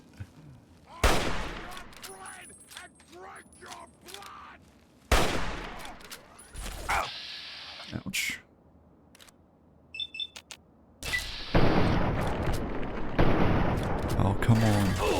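Gunfire in the video game Fallout 3, sharp sharp shots and bursts scattered in clusters at close range, some rapid-fire, with gaps between them.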